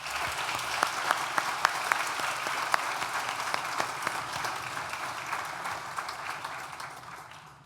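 Graduates at a business school graduation ceremony applaud in a hall, a fairly quiet, even spread of many hands clapping with a few sharp louder claps nearby, fading out at the end.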